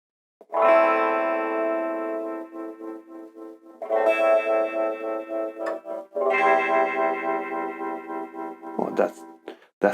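Electric guitar run through a simple homemade JFET phaser pedal, sustained chords swirling with a sweeping phase effect in three long strummed passages, loud and close, with brief pauses between.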